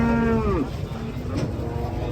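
A cow with panda-like eye markings lets out a single short moo being unloaded from a truck, the call close and loud before fading into rustling background noise.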